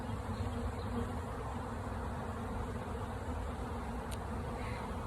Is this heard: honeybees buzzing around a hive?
yes